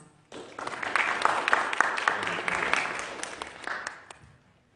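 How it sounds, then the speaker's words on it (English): An audience at an onstage presentation claps and applauds as a presenter walks up, a dense, steady burst of many hands lasting several seconds before fading out. "So let's give him a round of applause."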